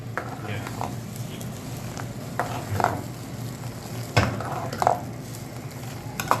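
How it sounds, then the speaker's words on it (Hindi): Omelette frying in a pan while tea brews, with a steady soft sizzle and occasional stirring and utensil clinks scattered throughout, moderately close. "ये बन रही है चाय यहाँ पे, और ऑमलेट चेक करें आप"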